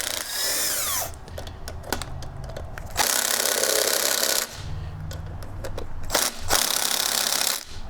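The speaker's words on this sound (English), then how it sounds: "Now we need to take these 4 bolts out so we can pull this fan" Power drill or impact driver backing out fan cover bolts on a Kohler EFI small engine, loud close bursts of whirring and rattling in several separate runs with short pauses between, no talk.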